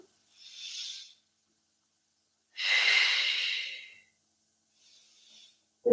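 Slow breaths during a held yoga lunge: two soft, airy exhalations a couple of seconds apart, then a faint third, all quiet and close with silence in between.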